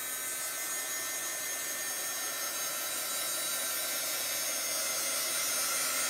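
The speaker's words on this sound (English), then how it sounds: "I can also just take a little dryer here." Small handheld dryer blowing on chalk paste on a board, a steady hissing whoosh with a faint hum underneath, constant and close, with no talk.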